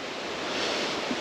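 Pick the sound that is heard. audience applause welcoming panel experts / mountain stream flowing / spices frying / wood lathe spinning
mountain stream flowing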